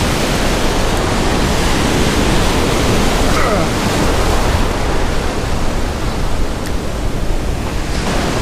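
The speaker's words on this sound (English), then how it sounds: "The wind's up about 15-20 mile an hour, man." Strong 15–20 mph wind roaring across a beach during surf fishing at Morehead City, North Carolina, a loud, unbroken rush buffeting the microphone with surf noise blended in throughout.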